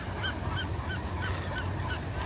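Geese honk repeatedly at a nature park, a steady series of moderately distant calls over a constant outdoor background hum.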